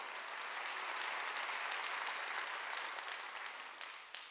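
A church congregation at a Sunday worship service applauds steadily, a dense wash of clapping that holds throughout and fades slightly at the end, with no speech over it.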